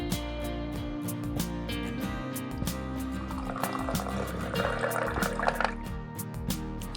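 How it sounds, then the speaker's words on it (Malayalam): Hot water is poured into glasses, each holding a sample of green peas, with steady trickling and splashing, repeated close filling surges and faint clinks of glass. "ഗ്രീൻ പീസിൻ്റെ ഓരോ ഗ്ലാസ്സിലോട്ടും ഓരോ സാമ്പിൾ ഇട്ട ശേഷം ചെറിയ ചൂടുവെള്ളം ഒഴിച്ചിട്ട്"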